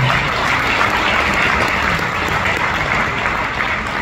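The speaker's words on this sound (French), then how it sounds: "Sous vos applaudissements, s'il vous plaît." A steady, dense wash of audience applause welcomes the ambassador of Slovakia, loud and continuous from start to finish with no break.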